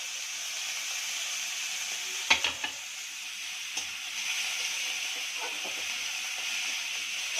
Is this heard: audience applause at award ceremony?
no